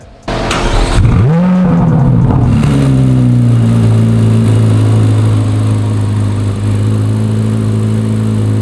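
A Chevrolet Corvette C8 Z06 engine cranks and fires up close, surging in a quick rising rev before settling into a loud, steady idle rumble, not in its loud exhaust mode.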